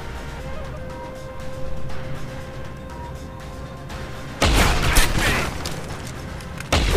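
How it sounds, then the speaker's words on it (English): Shotgun blasts in the video game Deus Ex Human Revolution: after several seconds of low ambient hum, a loud heavy boom lands with a lingering rumble, and a second sharp blast comes near the end, no talk. "Two shotguns killed me."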